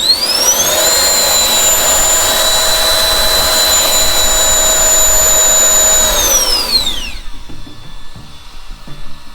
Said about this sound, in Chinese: 我们直接在1档的时候直接启动它的暴力模式